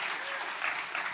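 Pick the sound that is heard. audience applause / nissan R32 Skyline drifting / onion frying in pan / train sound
audience applause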